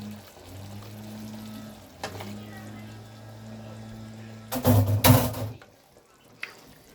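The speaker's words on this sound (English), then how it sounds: "I am going to add a half a ladle of water" Half a ladle of water poured into a pan of pasta and broccoli, a brief close splash and gurgle that follows a low steady kitchen hum.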